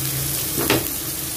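A spice paste fries on the stove in a brief, steady, close sizzle with one slightly louder scrape or hiss in the middle, with no talking.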